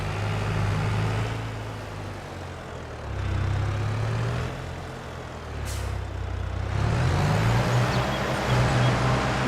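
A tractor engine in Farming Simulator 22, a small rig on a Western Wilds farm, drones steadily and loudly throughout, with low harmonic engine tones rising and shifting as the machine works, and no talking.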